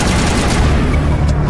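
Rapid weapon fire in Mass Effect Legendary Edition, a continuous loud barrage of shots with dense rumbling impacts, close and unbroken throughout.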